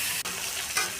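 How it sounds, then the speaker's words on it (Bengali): Potatoes and garlic fry in a hot pan for fish curry with ridge gourd, a steady close sizzle with a brief stir scrape partway through. "আলু রসুন ভাজতে দিচ্ছি"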